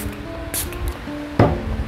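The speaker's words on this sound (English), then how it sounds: "I just spray it all over my face," Face toner mist sprays from a pump bottle onto a face in short, close hissing puffs, with light handling noise between them.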